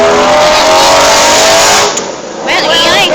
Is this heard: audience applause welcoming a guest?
no